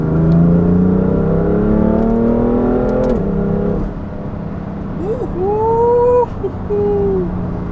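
A BMW F80 M3 engine revs up hard, its rising pitch climbing steadily, with people talking and calling out over the roar.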